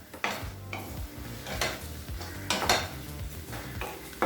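Tomatoes and chillies sauté in a pan with a soft sizzle under them, and a spoon scrapes and knocks against the metal in irregular strokes. The sound is close and there is no talk.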